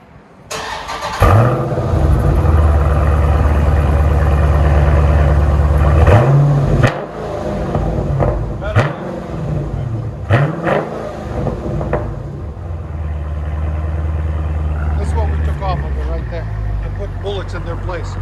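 A 2017 Dodge Challenger 6.4L Scat Pack with mid mufflers swapped for 3-inch Dynomax bullets and the rear mufflers kept starts up with a loud crack and settles into a deep, rumbling idle. Several sharp revs follow before it returns to a lower, steady burble.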